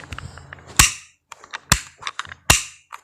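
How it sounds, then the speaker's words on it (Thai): Three sharp toy gun shots crack inside a Minecraft game, evenly spaced about a second apart, with softer clicks and small game sounds in between; no speech. "อันนี้เป็นสิ่งปืนนะ เอาของเล่นปืนมาเล่น"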